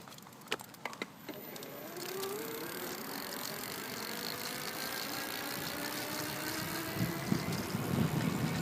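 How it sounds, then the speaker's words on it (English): A2B Kuo electric bike motor driven by twist throttle, a faint rising electric whine that climbs in pitch and then holds steady, with a few clicks at the start and no talk. "So I'm going to start out in twist throttle only mode. Here we go, and listen for the motor."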